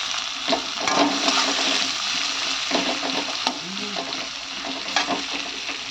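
Fresh kakrol (spiny gourd) frying in oil, a loud continuous sizzle and hiss close by, broken by occasional stirring scrapes and pops, with no talk.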